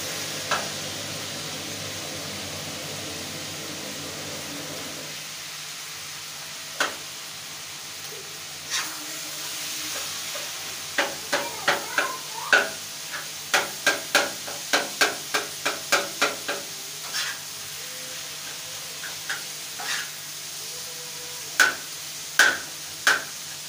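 Chicken fries in a pan with spices under a soft steady sizzle, while a utensil scrapes and clacks against the pan in irregular bursts of sharp stirring strokes, close and clear with no talking.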